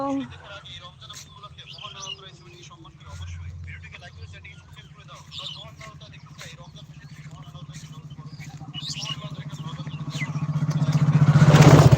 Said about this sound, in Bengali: বাবারে এখন এই বাইকটা লাগাই দিচ্ছিল